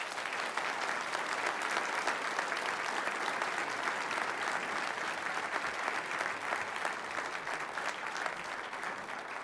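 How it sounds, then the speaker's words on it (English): Warm round of applause from a convention audience for Professor Perry, a steady, dense wash of many hands clapping continuously at even volume, somewhat distant and soft. "let's give a warm round of applause for Professor Perry"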